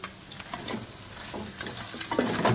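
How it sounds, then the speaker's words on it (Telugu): Chicken frying with egg and vegetables for homemade egg and chicken fried rice, hissing steadily in the pan while a utensil stirs and scrapes at intervals, close and moderately loud with no talking. "ఇప్పుడు మనం చికెన్ వేసుకుందాం."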